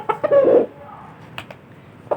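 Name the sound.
rooster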